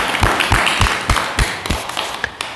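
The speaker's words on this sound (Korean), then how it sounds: "자, 큰 박수 부탁드립니다." A seated audience at a talk on healing claps in applause, with a sparse run of distinct, fairly close hand claps at an uneven rhythm that thins out toward the end.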